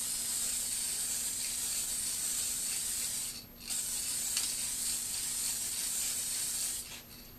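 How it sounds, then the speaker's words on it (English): A spray can lays down a light coat of gray primer on a scale-model pavement surface, a close steady hiss with one short break in the middle before it resumes and fades out at the end. "first, guys, just a light coat of the gray primer"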